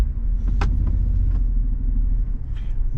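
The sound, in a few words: 2023 Toyota Sequoia Platinum turning at full steering lock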